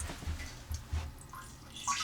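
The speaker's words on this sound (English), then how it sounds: "I've drained most of the water out, but now I just have to make sure that the last little bit of water" The last water in the lines of an RV toilet drains with soft, irregular trickles and splashes, close and faint, with no talking.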